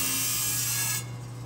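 A saw trimming a rock slab for a cabochon, a constant high grinding whine with a steady low hum that eases off slightly near the end, close and without talk.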